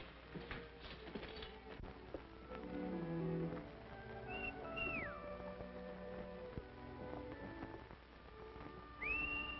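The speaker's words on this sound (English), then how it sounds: "I could have sworn I recognized that whistle." A human whistle in an old western film, a couple of short rising pitched calls heard faintly over a busy background of horse and outdoor noise, with no talking.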